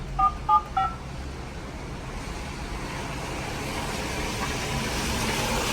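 Keypad tones on a Moscow apartment entrance intercom as an apartment number is dialed, three short beeps in quick succession, followed by a steady hiss of traffic and background noise.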